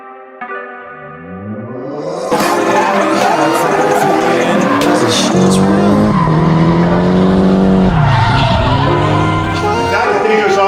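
An 800-horsepower 2009 Nissan GT-R slides with loud, sustained tire squeal and a revving engine whose pitch swoops up and down, building from a quieter start into a long, loud skid.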